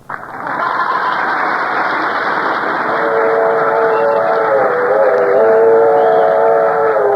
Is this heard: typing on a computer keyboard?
no